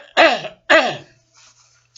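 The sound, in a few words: cough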